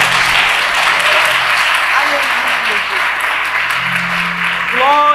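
A church congregation applauds loudly, a dense, sustained wash of many hands clapping close by, with voices calling out over it near the end.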